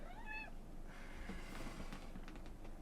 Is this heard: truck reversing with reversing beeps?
no